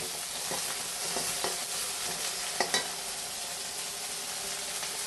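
Green chillies, ginger and garlic frying for a quick lime pickle, a continuous close sizzle broken by repeated light scraping strokes of a spoon stirring the pan, with no voices.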